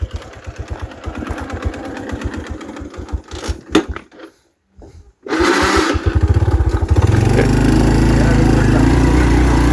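A motorcycle engine idles with rapid even pulses, sputters and cuts out briefly, then restarts and runs louder and rougher close by, with people talking around it.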